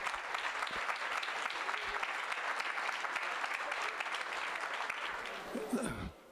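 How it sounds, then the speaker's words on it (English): A hall of fame induction ceremony audience gives a sustained round of applause, dense clapping at moderate distance that tapers and cuts off near the end as voices rise briefly. "Let's have one more round of applause for this year's inductees."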